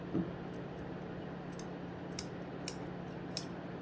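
A few sharp, quiet snips come at uneven intervals, each a brief crisp click over a faint hum in an otherwise quiet room.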